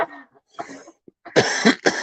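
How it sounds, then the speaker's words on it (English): A woman coughs in several harsh bursts, close by, with a short pause and a throat-clearing rasp between the fits. "You can hear her coughing"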